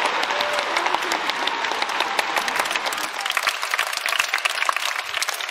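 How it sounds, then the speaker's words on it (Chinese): Audience applause at a children's choir concert in China, a sustained wash of crisp, overlapping claps that continues evenly throughout. "我们可以把掌声送给他们，好吧？"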